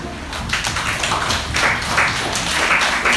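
A church congregation claps together at an overseas mission service, a dense, fairly loud spread of many hands in an uneven but continuous patter.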